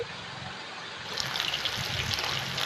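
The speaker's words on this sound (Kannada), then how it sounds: "ನಾನಿಲ್ಲಿ ಅಡುಗೆ ಎಣ್ಣೆಯನ್ನು ಹಾಕಿ ಫ್ರೈಯನ್ನು ಮಾಡ್ತಾಯಿದ್ದೇನೆ" Large anjal (seer fish) pieces frying in cooking oil in a pan, giving a steady hiss that swells louder about halfway through and carries on as a dense, crackling wash.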